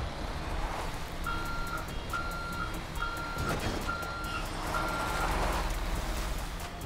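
A truck's steady reversing beeper in the GTA 5 video game, about five evenly spaced tones over a low engine rumble, moderately distant and fairly quiet, with no talk.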